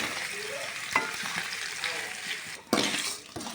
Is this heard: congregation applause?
no